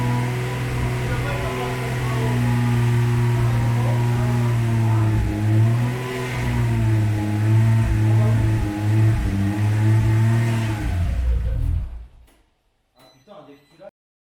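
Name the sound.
Nissan S15 RB26 engine running and revving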